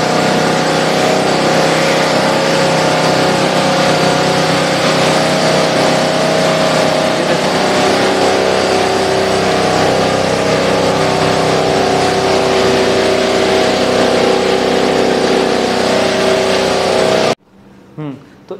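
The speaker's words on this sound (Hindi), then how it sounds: "यानी कि इंजन से स्टार्ट होने वाली ये मशीन है जी।" A Honda engine-powered milking machine runs loud and close with a steady, unbroken droning engine hum that cuts off abruptly near the end, followed by brief quieter sounds.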